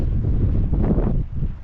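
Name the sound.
strong wind on Mount Eden summit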